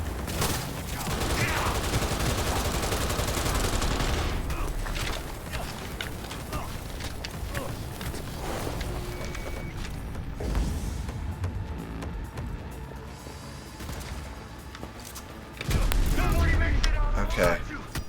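Gunfire in the video game Cyberpunk 2077 crackles in dense rapid bursts, loud and continuous at first and then thinner, with clanking mechanical sounds, game music and voices beneath, and a heavy burst near the end.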